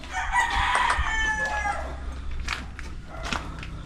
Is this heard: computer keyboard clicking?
no